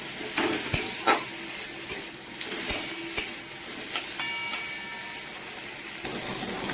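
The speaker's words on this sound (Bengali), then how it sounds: "এবার আলুগুলো দিয়ে ভালো করে ভেজে নেবো" Potato pieces fry in a little oil in a pan, a constant close sizzle broken by regular scraping and knocking as a spatula stirs them.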